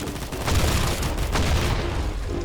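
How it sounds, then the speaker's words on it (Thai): Gameplay from the shooter Combat Master erupts with a dense, roaring burst of explosion and rapid gunfire, loud and continuous with a heavy low rumble throughout. "เฮ้ยระเบิด"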